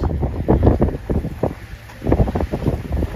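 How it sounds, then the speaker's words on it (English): Strong gusts of outdoor wind buffet the microphone in loud, uneven rumbling bursts that ease briefly in the middle before picking up again, with no voices. "That wind is kicking."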